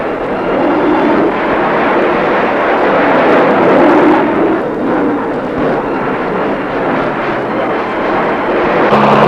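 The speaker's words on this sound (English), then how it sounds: "the Air Force jets dart in with their heavy ordnance" Air Force jets flying in to deliver heavy ordnance during an army air assault operation, a loud sustained roaring rumble that swells and holds throughout, with no voices heard.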